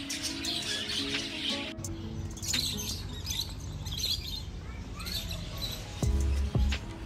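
Colorful birds in an aviary at a bird park in Chandigarh chirp and tweet continuously, a busy mix of high calls close by against a steady background murmur.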